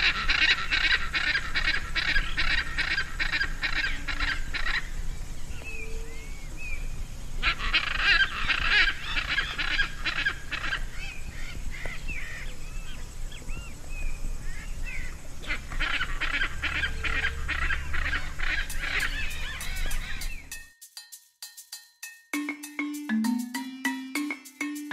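Hyacinth macaws (Anodorhynchus hyacinthinus) give loud, harsh, honking squawks in a steady chorus that lasts about twenty seconds. The calls then give way to a brief musical sting.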